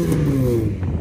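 Vauxhall Corsa engine revving close up, a steady loud mid-pitched drone that holds for about a second with a slight rise and fall in pitch.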